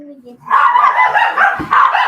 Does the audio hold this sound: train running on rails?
no